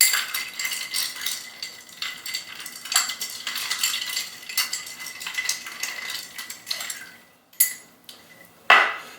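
Ice cube clinking and rattling against glass as a gin old fashioned cocktail is stirred, a busy run of close, bright taps and scrapes, ending with a few sharper knocks.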